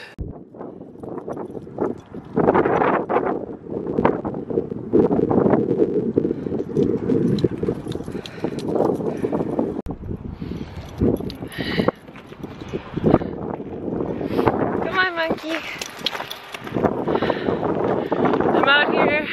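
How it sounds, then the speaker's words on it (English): Wind buffets the microphone in rough, uneven gusts, with rumbling bursts and a voice speaking intermittently over the noise. "It's definitely too windy to talk to vlog"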